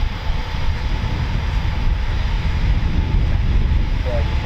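A Eurofighter Typhoon FGR4 jet at RAF Coningsby gives a broad, steady engine roar, loud and continuous throughout without a break.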